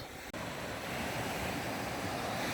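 Waves wash onto the beach beside Takapuna Campground in Takapuna, a steady, close roar of surf mixed with wind noise on the microphone, with a brief dropout near the start and no voices.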